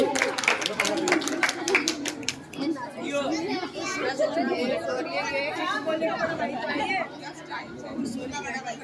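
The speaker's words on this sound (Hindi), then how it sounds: "एक बार आप भी जोरदार तालियों से स्वागत कीजिए शौर्य सिंह" Applause from a school Republic Day and award ceremony audience greets a performer stepping up to recite a poem, with brief clapping at the start giving way to loud crowd chatter and voices.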